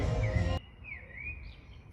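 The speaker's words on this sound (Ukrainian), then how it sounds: "Як гарно співають пташки." A few soft, whistled bird chirps rise and fall against quiet outdoor background noise, following a brief burst of louder, busier sound at the start.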